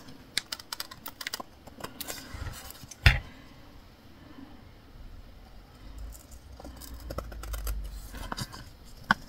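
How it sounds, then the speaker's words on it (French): Scissors snip through surplus kraft paper while trimming a scrapbooking mini album, giving a few short, close, crisp cuts among quiet handling noises, with one louder snip standing out. "je vais prendre mes ciseaux, je vais couper le surplus"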